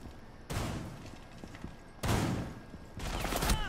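Bursts of gunfire on the Border map in Rainbow Six Siege come in three separate rattling volleys, fairly distant and quiet, with short lulls between them.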